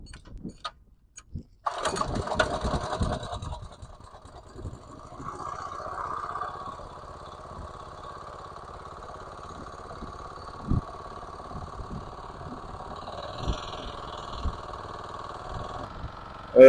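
A small motor engine in a community garden irrigation setup starts after a brief quiet moment, then settles into a steady low idle that runs on and on at moderate volume, with a few knocks and clanks.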